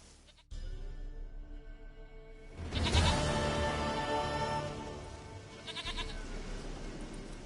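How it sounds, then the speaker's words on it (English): A goat in the video game The Witcher 3 bleats with a long, wavering, fairly loud call partway through, following brief tonal background sounds at the start. "Goat of mine, dearest, sweetest goat."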